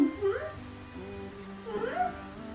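A deaf cat being stroked gives two drawn-out meows, one at the start and another near the end, close and fairly loud, with a soft voice murmuring in between.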